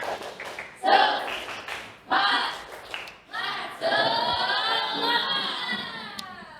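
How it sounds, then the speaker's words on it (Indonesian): A school class does rhythmic spirit clapping in the classroom, several short bursts of group claps followed by a longer run of children clapping and shouting together, with a teacher's voice in the gaps. "sebelum itu tepuk semangat"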